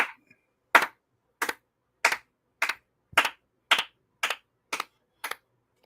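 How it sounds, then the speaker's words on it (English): Ten sharp hand claps at a steady, unhurried rhythm, each with a short echo tail like flamenco clapping, close and crisp with silence between. "With the echo effect, it sounds like flamenco clapping."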